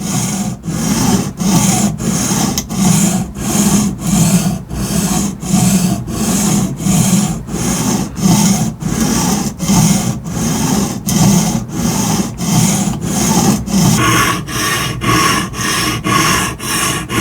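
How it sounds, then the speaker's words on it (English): Knives of Alaska Steelheader fillet knife stroked on an Atoma 140 grit diamond stone in a guided Tsprof K03 sharpener, a loud gritty rasp repeating in an even back-and-forth rhythm about twice per second. "And we're using our Atoma diamond stones to sharpen."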